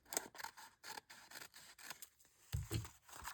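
Scissors snip through paper across a quilt square during a page-embellishment craft project, with several short crisp cuts in an uneven rhythm, close and fairly quiet.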